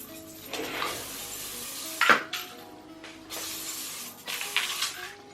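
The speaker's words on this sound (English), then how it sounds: "Now what I'm gonna do is spray some hairspray." Several short hissing hairspray aerosol sprays, separated by pauses, close by, with light clicks and rustling between bursts.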